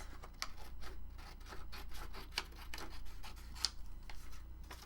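Scissors cut through paper for a junk journal, a quiet run of soft snips and rubbing rustles up close over a low steady hum, with no voices.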